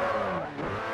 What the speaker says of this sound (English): A little drift there.